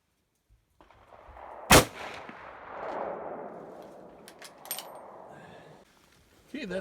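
A single sharp rifle shot from a 307 Winchester firing Hornady 160 grain flex tip factory ammunition, loud and close, followed by fading outdoor rumble during accuracy testing.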